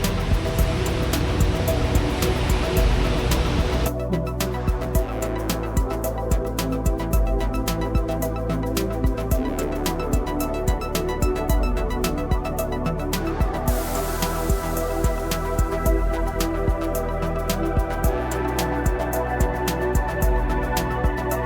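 Heavy rain pours steadily over an old VW Golf stopped on a French motorway, a dense continuous roar with scattered sharper drips and drumming throughout.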